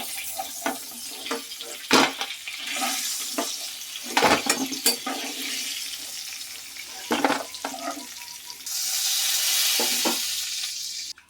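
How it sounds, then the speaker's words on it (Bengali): Five-spice tempering hitting hot oil left from frying crabs, a steady sizzle broken by repeated clanks and scrapes of a utensil, ending in a louder, sustained hiss. "ওই তেলের মধ্যে এবার দিয়ে দেওয়া হচ্ছে 5 ফোড়ন।"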